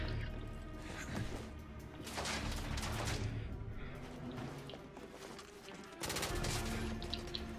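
Gunfire in The Order video game, with enemies firing shotgun-like bursts of three shells at once; dense, continuous volleys of shots and booms fill the whole stretch amid game music and effects, with a sudden loud burst near the end.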